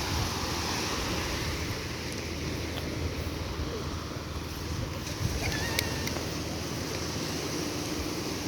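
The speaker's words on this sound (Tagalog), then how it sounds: "Open sea. Open sea yung dagat." Open sea waves wash steadily along a clean sandy beach, a continuous broad roar with wind buffeting the microphone and no talk.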